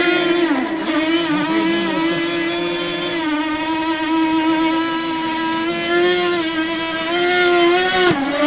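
Racing motorboat on a race course, engine whining loud and steady as it passes, pitch holding high with a slight dip and a sharp change near the end, with no talking.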